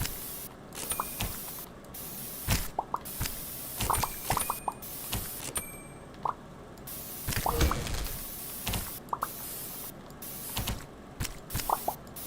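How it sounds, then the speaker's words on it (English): A spray can spraying in the video game Antipaint, hissing bursts mixed with clicks, creaks and rattling mechanical noises in a busy, continuous stream. "I'll try to use my spray can to help me move"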